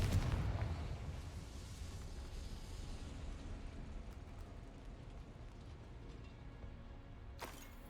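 A Confringo fire spell bursts into a loud, booming explosion in Hogwarts Legacy, hitting hardest at the start and then fading into a long rumbling tail. A short sharp crack follows near the end.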